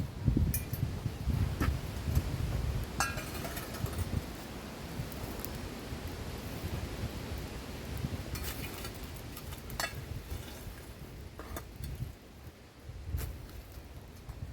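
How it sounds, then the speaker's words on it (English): Steady wind buffets and roars across the microphone outdoors, with low rumbling gusts and occasional rustling, no voices. "it is quite windy up here"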